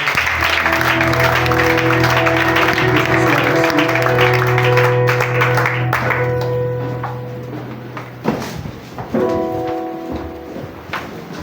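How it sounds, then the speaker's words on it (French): A church congregation applauds and cheers, clapping mixed with sustained musical tones that fade out midway, leaving scattered claps and voices. "Est-ce qu'on peut donner une offrande d'acclamation au Seigneur?"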